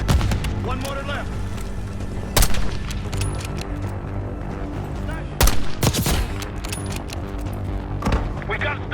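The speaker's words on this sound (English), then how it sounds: "We gotta stop those mortars!" Mortar blasts and gunfire in the shooter video game Black Ops 6, with sharp explosive bursts near 2.5 and 5.5 seconds over steady rattling combat noise and a constant low rumble.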